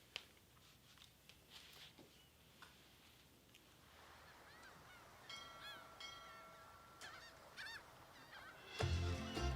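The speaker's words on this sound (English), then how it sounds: "It's already setting the mood there with the seagulls." Seagulls call in the opening of the Luca teaser trailer, a series of honking, squawking cries over a soft ambient bed, growing busier and louder toward the end.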